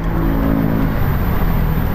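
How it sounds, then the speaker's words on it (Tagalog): Road traffic, a car engine rumbling nearby with low droning and a brief rising rev, steady and close for two seconds with no talk. "Traffic."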